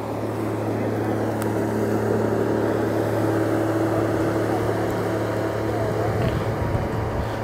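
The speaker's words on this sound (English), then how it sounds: "Lots of boat traffic today, obviously." Motorboat traffic drones steadily across open water during a spring bream fishing trip, a continuous low engine hum near and far throughout, with people talking faintly underneath.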